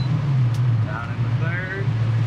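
A 1966 Ford Mustang with a 289 V8 and three-speed gearbox pulls along in second gear, a steady low engine drone carrying throughout, with someone talking over it.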